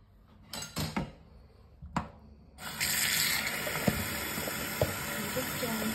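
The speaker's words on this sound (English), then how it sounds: "so to another little clean and rinse thoroughly, and then allow it to dry." A century-old bridal bag hand washed and rinsed in a sink: a few soft clanks and splashes, then a tap runs in a steady hissing stream close by.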